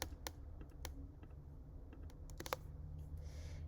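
Computer keyboard typing and mouse clicking during digital drawing work, scattered quick clicks and keystrokes, close and fairly quiet, with no talking.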